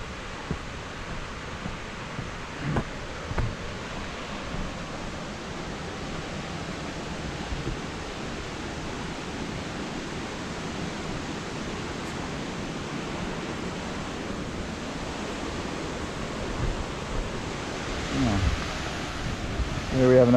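A low-running river spills over falls at a camp, giving a steady broadband rush of water that holds evenly throughout, with faint wind noise and a brief swell near the end.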